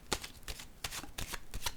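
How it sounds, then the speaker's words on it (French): Tarot cards are drawn and shuffled by hand, a quick run of six or so crisp riffling snaps close to the ear, soft and rhythmic with no voice. "je vais piger une autre carte."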